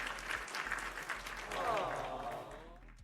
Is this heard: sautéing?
no